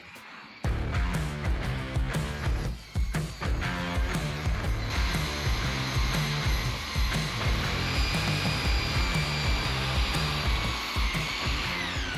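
A Sunjoe 15-inch electric dethatcher and scarifier starts abruptly and runs on a lawn, a loud steady motor whine with rattling tine chatter, briefly dipping once before holding constant.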